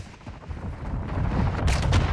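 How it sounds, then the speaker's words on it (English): Video game gunfire crackles in a close, dense burst that builds in loudness, with heavier booming shots near the end and no talk. "You are taking effective fire."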